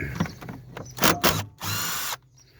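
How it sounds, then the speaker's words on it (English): A small impact ratchet whirring in a few quick bursts, ending in one longer run, as it removes a 10mm bolt during a VW DSG gearbox repair, close and loud. "Let's whiz that off with the baby impact ratchet."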